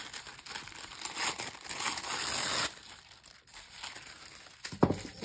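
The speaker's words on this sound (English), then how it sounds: "I'm going to tear some of this tissue paper and I'm going to add these on top." Tim Holtz tissue paper being torn and crinkled by hand, close-up bursts of papery rustling and ripping with a sharp crackle near the end.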